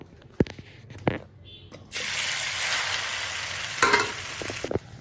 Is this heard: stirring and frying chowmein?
yes